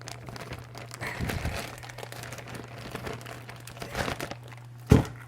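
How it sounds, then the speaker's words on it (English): A plastic bag holding garlic crinkles softly up close, with faint rustles and a sharper crackle near the end over a low steady hum. "I leave it in this plastic bag because I don't like the smell of the garlic in my refrigerator."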